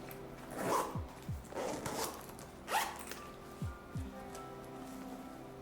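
The pockets of a Nomatic 20L travel backpack are unzipped, with several quick zipper pulls in bursts against faint rustling of fabric, soft and close.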